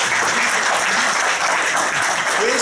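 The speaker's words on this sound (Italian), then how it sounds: "Altro applauso" Applause from a crowd at a political gathering in Morrovalle, a thick, unbroken roar of clapping at constant loudness from start to finish.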